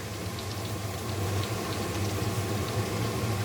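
Garlic frying in a pan while cooking a Pakistani-style prawn dish: a steady, low bubbling sizzle with a soft rumble, continuous and close, with no talk.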